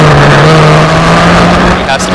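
Historic Formula Ford race cars roar past at Donington Park, a loud sustained engine drone holding a steady pitch, with a commentator talking over it.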